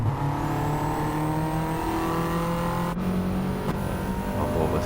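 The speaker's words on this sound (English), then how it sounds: "we're revving out in fourth" Race car engine in Gran Turismo 7 held at high revs in fourth gear during an online race, a loud steady whine with rising harmonics running the whole way, one brief sharp click near the middle and no talk.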